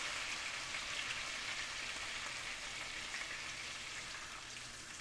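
White wine sauce for shrimp scampi simmers and reduces in a pan, giving a steady, close, even sizzle with soft bubbling that holds throughout and eases slightly toward the end.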